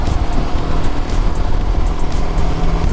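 Voge 300DS adventure motorcycle engine revved with a blip of throttle, a loud, steady, close rumble lasting a few seconds with no voices.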